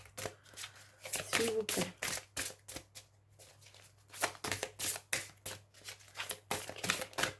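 Tarot cards being shuffled by hand, a run of crisp rapid riffles and slaps in uneven bursts, close and fairly loud, with someone speaking briefly between them.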